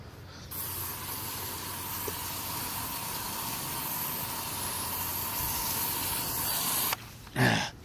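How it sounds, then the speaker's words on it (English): A garden hose sprayer applies humic acid and sea kelp across a lawn, giving a steady, close broadband hiss of spraying liquid that runs for several seconds, then cuts off abruptly, followed by a brief handling thump. "Ran out of hose. I can see where I sprayed though."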